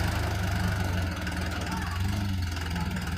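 A tractor engine runs in a steady, loud, continuous drone with a throbbing low rumble from start to end.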